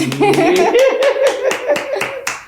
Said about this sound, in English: Even though I clapped.